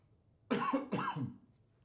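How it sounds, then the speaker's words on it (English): Two quick, harsh coughs in a row from one person, close and fairly loud, followed by quiet. "Oh, now I'm going to start coughing."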